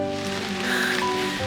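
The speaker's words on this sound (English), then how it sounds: "then it started pouring rain" Pouring rain on a trail campsite in the Andes gives a dense, steady hiss of drops drumming on nearby surfaces, alone and without talk.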